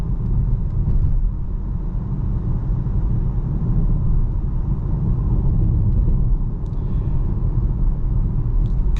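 A 2025 Volvo XC40 rolling down a bumpy hill road, heard from inside as a loud, steady low rumble of tyres and engine with a faint knock or two near the end.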